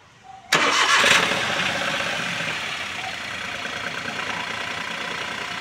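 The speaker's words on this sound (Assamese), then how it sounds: "ষ্টাৰ্ট হৈছে এটা সফ্টকৈ ষ্টাৰ্ট হৈছে ইঞ্জিন" A 2013 Maruti Suzuki Wagon R LXI petrol car engine cranks briefly and catches with a sharp start, then settles into a smooth, steady idle close by, with no voices.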